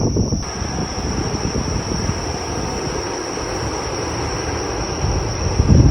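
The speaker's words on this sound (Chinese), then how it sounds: "有一个电铁是悬浮的，它跟一般电车不一样，它的轨道是在上面" A suspended monorail train in Kamakura rumbles past steadily with a broad, continuous rushing roar and a high whine running throughout, growing slightly louder at the end.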